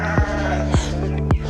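Sheep and goats bleating inside a zero-grazing livestock unit on a small two-acre farm: three loud, sharp bleats, evenly spaced, over a steady humming background.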